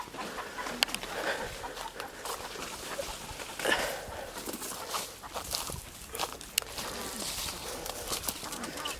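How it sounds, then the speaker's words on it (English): Free-roaming backyard chickens cluck and murmur as they wander out, with scattered calls over a busy outdoor background and occasional sharp sounds. "some chickens are just getting out, roaming free"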